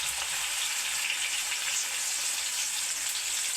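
Chopped onion frying in a hot pan with cumin, garlic and green chillies, a steady close hiss of sizzling oil with no speech.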